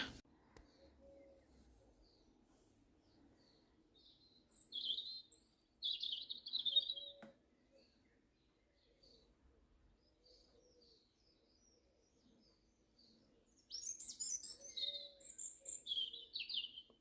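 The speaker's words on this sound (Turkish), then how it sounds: "Ben konuşmuyorum kuşların sesini dinleyin diye." Birds chirp and tweet in short bursts against a quiet background, with a dove cooing softly now and then.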